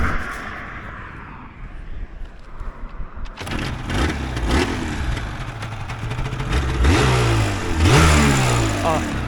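A 1986 Yamaha TZR250 1KT two-stroke motorcycle starts with a muffled rumble, then its engine rings out loud and close in a series of sharp, rising revs. Someone speaks briefly near the start.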